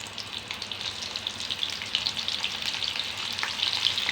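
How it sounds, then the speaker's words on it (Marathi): Soybeans crackle and sizzle in hot oil, a steady dense fry with a slight surge partway through, close and fairly loud with no voices. "याच्यात सोयाबीन टाकून बघते, तर हे पहा मस्त गरम झालेलं आहे आपलं तेल"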